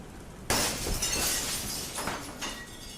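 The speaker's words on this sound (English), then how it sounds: "the sound of glass shattering exploded through the house" Glass shatters suddenly and loudly inside a house, a bright burst followed by about two and a half seconds of tinkling, scattering fragments, with no voices.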